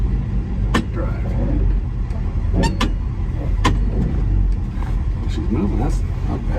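A car rolling and driving after a transmission repair, a low steady engine and road rumble close by, with people talking over it.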